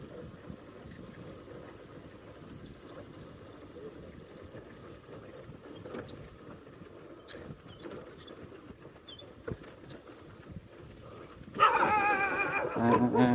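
Dogs or puppies in a village on a trek route to Vattavada, Kerala, give a burst of sharp, fairly close yelping barks near the end, after a stretch of quiet outdoor background.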